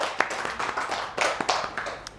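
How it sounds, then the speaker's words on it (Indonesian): A classroom group claps by hand in a brief, uneven round of light, close claps and taps, moderately loud over a quiet room. "tepuk tangan dulu untuk Kref Biagi."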